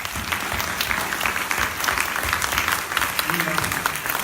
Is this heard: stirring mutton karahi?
no